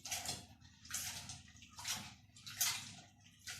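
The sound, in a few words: washing soaked samp in water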